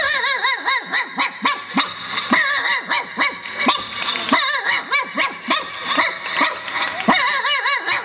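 A comedian on a Malayalam comedy stage imitates a native street dog barking, producing a rapid run of rhythmic yelping barks and yips from a human voice, loud and close, with chuckle-like catches between the barks.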